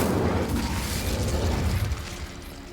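A burst of fire roars and crackles as the Incendio spell is cast in Hogwarts Legacy, a dense, loud whoosh that tapers slightly toward the end, with no talking.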